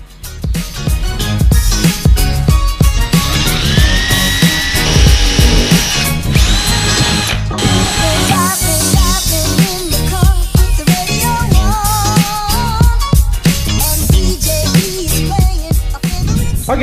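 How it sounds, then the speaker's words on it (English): A power drill whines and bites repeatedly in loud, close bursts, its pitch shifting as holes are drilled one after another in a vehicle's A-pillar. "then we're gonna drill out our holes"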